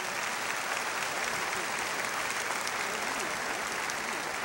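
Audience at a 2007 Flower Mound High School graduation ceremony applauding steadily, a dense, even wash of clapping that holds at moderate volume throughout.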